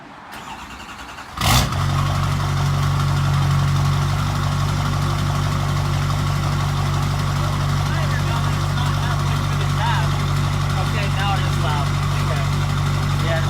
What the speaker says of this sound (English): we're gonna do the first startup of the LB7 Duramax 5-inch straight pipe